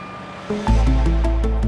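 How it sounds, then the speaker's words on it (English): A truck pulling in while delivering a submersible habitat in Miami, Florida: low engine rumble swells up after a quiet start, with a steady droning hum and faint harmonic whine, close and fairly loud, no voices. "Not every day you're filming a truck pulling in a submersible habitat."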